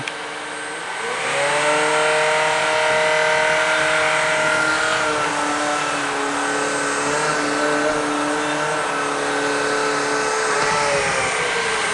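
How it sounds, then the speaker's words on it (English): A Shark Rocket Pro cordless stick vacuum whirs loudly and steadily, its pitch rising sharply at the start as the motor kicks up for carpet, then holding with slight shifts. "now you can hear it kick up when you turn it for the carpet"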